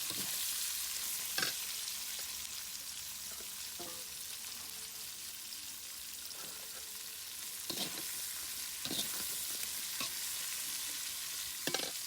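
Onion and carrot stir-fried for chowmein on a chulha, a continuous hissing sizzle with a few spatula strikes and stirring scrapes spread through the stretch, no talking.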